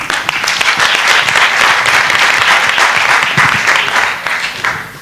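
A room full of people applauds steadily for several seconds, the clapping loud and dense before tapering slightly at the end.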